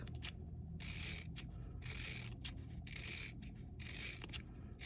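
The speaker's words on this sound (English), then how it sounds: "now I am gonna cut very, very thin" Scissors snip steadily through very thin paper strips for a handmade daffodil paper flower, a close, rhythmic run of crisp cuts repeating without pause.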